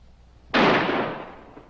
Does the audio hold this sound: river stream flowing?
no